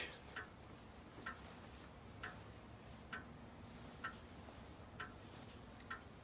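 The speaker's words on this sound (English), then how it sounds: "Ask him how the grandfather clock works." A grandfather clock ticks quietly and evenly, about once a second, each tick sharp and faint over a low room hiss, with no voices.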